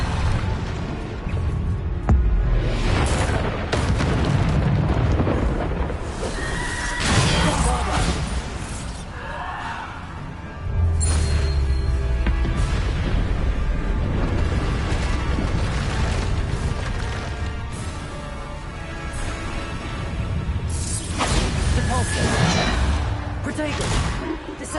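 Spell explosions and impacts from Hogwarts Legacy keep coming in repeated booms, crashes and whooshes over a long stretch of combat, loud and dense, while a voice repeatedly calls out spell names.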